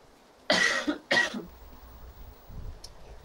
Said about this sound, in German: falls ich heute des Öfteren mal husten muss oder so, tut es mir leid